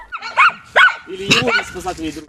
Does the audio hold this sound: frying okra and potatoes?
no